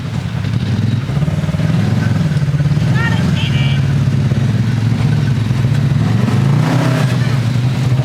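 An off-road vehicle grinds and clatters over a rock on the Elbe Swamp trail, its engine rumbling steadily throughout with brief higher squeaks partway through, while people talk nearby.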